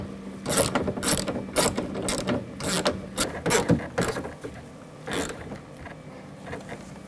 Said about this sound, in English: And tighten these bolts down.